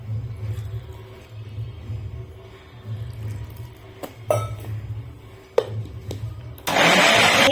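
A mixer grinder churns thick garelu batter with a little added water, its motor pulsing in a low labouring hum with a few clinks before surging into a loud, steady whir near the end.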